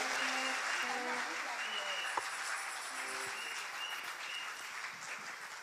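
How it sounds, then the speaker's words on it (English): A church congregation at an Easter Sunday service claps and shouts in praise, sustained applause with scattered voices and a sharp hit partway through, filling the space at moderate level. "give a shout and a clap unto Jehovah God"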